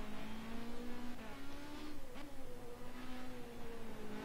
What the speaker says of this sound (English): He's actually wheeling that car around on this hot lap.